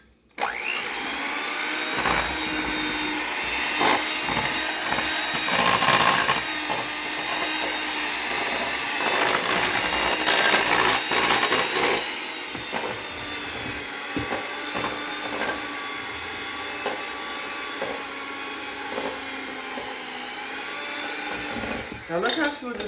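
An electric mixer whirs steadily through oil-based waffle batter, a loud continuous motorized drone with brief pauses and shifts in pitch, running for most of the stretch.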